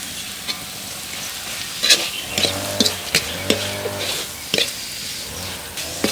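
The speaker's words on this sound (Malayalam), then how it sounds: "മസാലപ്പൊടി ആ എണ്ണയുടെ കൂടെ ഒന്ന് നമ്മൾ ഇളക്കി നന്നായിട്ട് യോജിപ്പിച്ചിട്ട്" Steady sizzle of ground masala powder frying in oil in a pan, with repeated scraping and stirring knocks, plus a low humming tone coming and going underneath.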